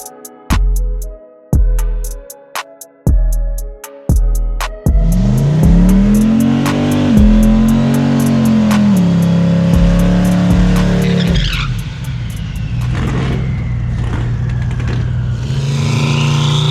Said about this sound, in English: go make our first hit and see what this thing does